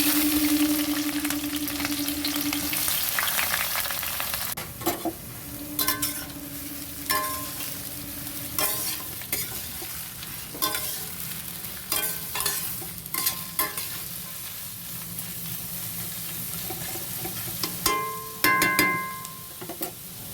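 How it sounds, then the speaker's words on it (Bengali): Onions fry in a pan of oil with bay leaf and dried chili, giving a soft continuous sizzle broken by repeated stirring clatters and scrapes of a utensil against the pan. "আমি পেঁয়াজটা ভেজে নেবো।"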